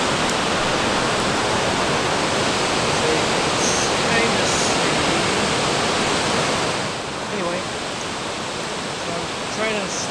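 Beaver Falls waterfall rushing in a steady, loud broadband roar with continuous spray, heard close from a trail near the falls; faint voices and brief sounds appear over it toward the end.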